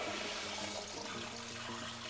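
A toilet flush in Deus Ex, a steady rushing of water that drains and swirls for a couple of seconds, fairly quiet, with no talking over it.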